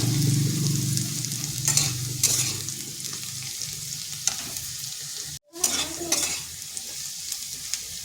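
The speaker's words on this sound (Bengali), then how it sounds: "এইভাবে নেড়ে নেড়ে আলুটাকে হালকা ভেজে নেব।" Potatoes stirred and lightly fried in a pan for an onion-stalk dish, a steady broadband sizzle with scraping stir strokes at intervals and a brief dropout midway, close and alone without talk.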